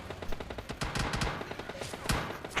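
Gunfire in the PUBG Mobile video game coming from behind the player: quick bursts of automatic shots, sharp and fairly close, in an uneven rhythm with no talking.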